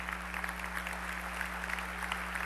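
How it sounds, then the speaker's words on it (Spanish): Congregation applauding during a church sermon, a steady spread of clapping heard at moderate distance over a constant low electrical hum, with no voices on top. "Dele un fuerte aplauso al Señor"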